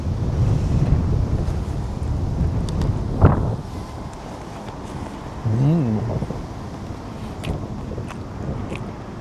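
Gusty outdoor wind buffeting the microphone in Borgund, Norway, a steady low roar with a stronger burst near the start, easing off and returning in waves, with brief handling knocks and no speech.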